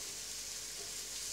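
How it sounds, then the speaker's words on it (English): Cannelloni sizzle softly in a frying pan as they are flipped, a steady hiss of frying with only a slight scrape and no clear impact. "I'm not scratching the pan, I'm just flipping."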